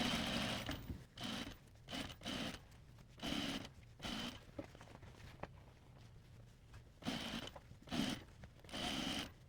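A sewing machine stitches the curved hem of a dress in short bursts of a few seconds each, with quiet pauses between runs and no talking.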